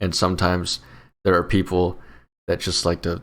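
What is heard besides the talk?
No distinct noise like a dog, phone or traffic.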